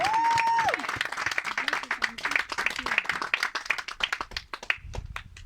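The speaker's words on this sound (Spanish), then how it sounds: "Alguien dale una ofrenda de palmas a Cristo Jesús" Church congregation clapping in praise to Jesus Christ during a sermon, a quick run of individual claps over a sustained sung or held voice that fades, leaving scattered claps tapering off near the end.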